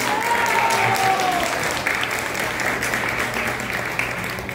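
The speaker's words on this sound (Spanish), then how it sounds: "Los aplausos para ella." A crowd at an outdoor exhibition opening in a park gives sustained, even applause with no break, as a guest of honor is introduced.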